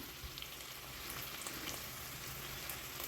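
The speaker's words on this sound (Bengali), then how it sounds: "আদা বাটাটা একটুখানি ভাজা ভাজা হবে" Ginger paste frying in a pan makes a soft, continuous sizzle and crackle at low volume, alone without any voices.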